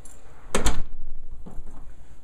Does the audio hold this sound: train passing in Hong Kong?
no